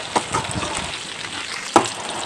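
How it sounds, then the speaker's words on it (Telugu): Ivy gourd pieces deep frying in hot oil give a steady, soft bubbling sizzle, with a couple of brief clinks or stirring knocks breaking through the hiss. "దొండకాయ ముక్కలను మనం డీప్ ఫ్రై చేసుకోవాలి"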